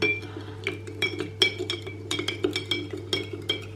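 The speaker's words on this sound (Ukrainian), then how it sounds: "Розмішуємо." A metal spoon stirs a fermented baked milk (ryazhanka) dessert, tapping the bowl in a dozen or so quick, bright clinks, irregularly spaced, over a low steady background hum.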